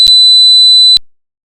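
Single 4000 Hz sine test tone from a hearing test: a piercing, steady, shrill whistle sounding alone for about a second, with a faint click at the onset and a sudden stop followed by silence.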